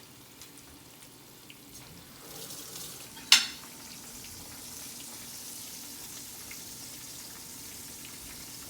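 Egg-and-flour-coated fish fillets frying in hot grease give off a steady soft sizzle, with a single sharp pop or splatter partway through, heard quietly and close.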